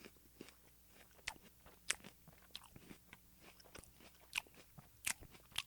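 Crunchy bites into an apple recorded close up for ASMR, with a series of sharp crunches and chewing in an uneven rhythm, quiet and with no talking.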